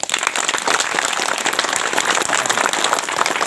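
A crowd at a spiritual gathering claps vigorously in a dense, even wash of applause that holds steady for a few seconds.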